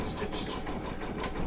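A home embroidery machine stitches tack-down stitches with fast, even, close mechanical whirring and rapid needle strokes, while a voice talks over the top.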